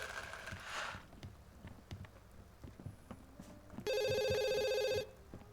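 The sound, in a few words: telephone ringing in The Sims 2 video game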